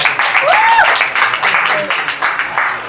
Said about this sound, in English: Round of applause for Slikour.